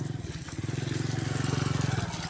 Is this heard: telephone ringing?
no